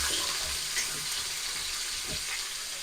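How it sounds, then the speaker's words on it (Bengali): Mixed vegetables fry in oil under a lid in a covered pan, giving a steady muffled sizzle with a faint clatter partway through. "সব সবজিগুলোকে একটু ঢাকা দিয়ে ভেজে নেবো।"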